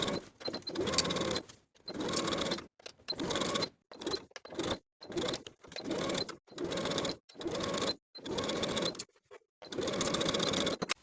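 Sewing machine setting shirtdress sleeves in place with a half-inch seam allowance, stitching slowly in about nine short stop-start bursts, close and fairly quiet.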